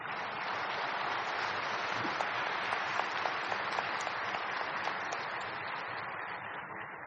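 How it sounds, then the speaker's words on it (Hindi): An audience at a yoga gathering claps loudly and steadily, a thick continuous wash of applause that holds for several seconds before tapering slightly at the end. "जोर से तालियां बजाएंगे।"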